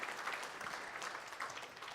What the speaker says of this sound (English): We don't have time for applauding